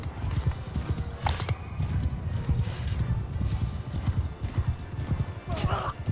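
A horse galloping in the Mount & Blade II: Bannerlord video game, with rapid, steady hoofbeats close by and a brief neigh, under a voice.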